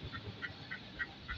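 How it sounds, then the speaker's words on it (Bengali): Domestic ducks on a farm give a run of five evenly spaced, nasal honking quacks about a third of a second apart, fairly faint against a soft background murmur. "এগুলো হচ্ছে আমাদের ফাতি হাঁস,"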